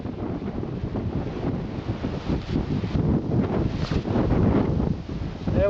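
Gusty wind buffets the microphone in a low, rumbling roar that rises and falls throughout, loud and close.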